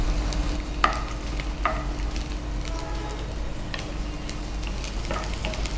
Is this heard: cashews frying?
yes